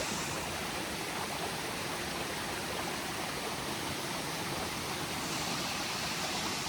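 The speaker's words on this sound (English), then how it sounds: "Another pretty waterfall." A waterfall in a holler after heavy rain, a dense, steady rushing roar of falling water, loud and close, continuous throughout with no voices.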